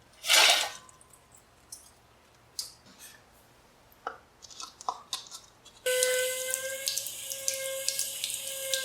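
Water drains from the water pump of a 1962 AMC Rambler engine into a funnel, starting with scattered drips and splashes and then turning into a steady, close pouring stream during the last few seconds.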